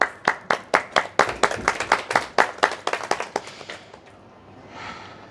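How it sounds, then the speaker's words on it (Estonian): One person claps hands at a book launch in Pärnu, about twenty crisp, evenly spaced claps close by, which then stop, leaving a faint murmur. "Päriselt ka, ma plaksutan teile ka."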